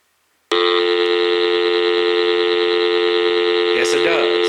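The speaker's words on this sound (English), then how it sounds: "make sure the dial tone on it works" Dial tone from the speakerphone of an AT&T CL82301 telephone, a steady loud continuous tone starting abruptly and holding, with a brief rustle near the end.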